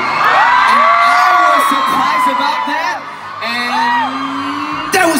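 A concert crowd of fans in San Jose screams, whoops and cheers loudly and continuously, with rising and falling shrieks filling the arena.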